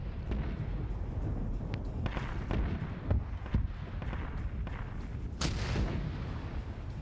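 Artillery fire in a war video game: a series of distant, booming gunshots at irregular intervals, with a sharper, louder report midway and another near the end, over a steady rumbling battlefield background.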